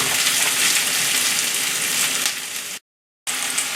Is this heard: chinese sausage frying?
yes